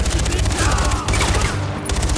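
Enemy gunfire in the video game Far Cry 4 crackles densely and continuously, a loud, close fusillade of overlapping rifle shots over a low rumbling vehicle drone.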